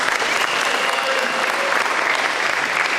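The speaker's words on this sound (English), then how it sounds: "That deserves a round of applause too." Audience applause at a live speaking event in Leicester, a loud, dense and steady wash of many hands clapping that continues without a break.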